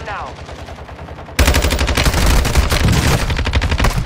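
Rapid automatic gunfire in the video game Warzone 2.0, a dense, loud burst of shots that starts abruptly and continues, with quieter rattling fire and faint voices before it.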